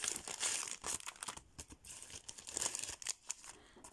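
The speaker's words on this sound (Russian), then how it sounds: "Пакетик был в пупырку" Bubble-wrap packaging crinkles and rustles close up, in irregular bursts of crackling handling noise.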